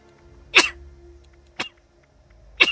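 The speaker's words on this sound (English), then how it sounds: "Why am I sneezing?" Three short, sharp sneezes spaced about a second apart in Fallout 76, each a brief burst over a quiet background.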